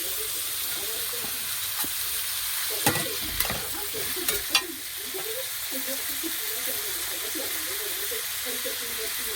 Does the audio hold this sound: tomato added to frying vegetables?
yes